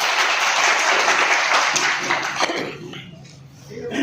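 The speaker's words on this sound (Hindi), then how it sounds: "एक बार अपने लिए ताली बजा दो" A rally crowd claps together at a political gathering, a dense roar of hands, loud and steady, that thins and fades out after a few seconds, leaving a quieter murmur.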